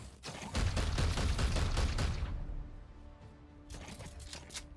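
Rapid bursts of gunfire from a Warhammer XCOM-style turn-based video game, dense volleys for two seconds that thin out into a quieter tail, then a few more scattered shots near the end.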